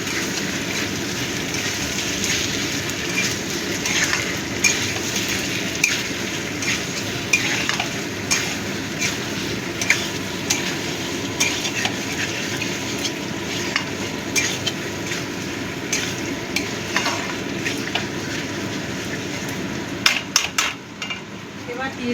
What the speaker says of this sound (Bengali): আদা রসুনটাও ভালো করে মিশিয়ে দেবো।